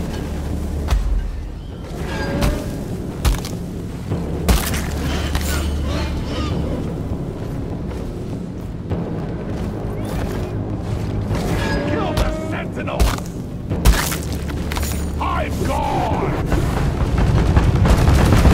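Grenade blasts and gunfire in the bug-fighting mining game Deep Rock Galactic, a busy mix of repeated booms and shots with sharp transient bursts over a constant low rumble, while voices call out over the action.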